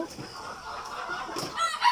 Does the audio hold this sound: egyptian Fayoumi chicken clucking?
yes